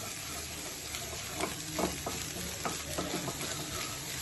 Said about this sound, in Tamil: முட்டை வந்து கரெக்டா டீப் ஃப்ரை ஆகணும்